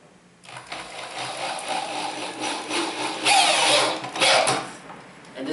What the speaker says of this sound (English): I got this drill here, and I'm gonna keep putting more screws in there